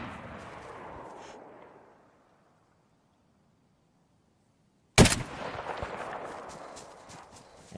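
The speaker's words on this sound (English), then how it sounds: "Yeah, we're shooting at each other." Gunfire exchange in the survival game DayZ: a burst of shots and ambient noise, then two seconds of near silence, then a sharp loud report followed by continued dense crackling shots and noise.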